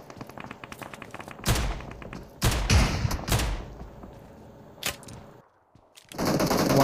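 Shotgun blasts ring out in a battle royale video game, several loud sharp shots spaced irregularly over a backdrop of rapid, fainter distant gunfire and footsteps.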